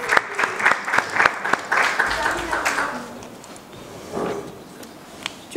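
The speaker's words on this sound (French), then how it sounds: "Donc on peut l'applaudir bien fort," An audience applauds at a press conference in Kinshasa, with a burst of loud clapping early on that tapers off. A voice then speaks over the fading applause.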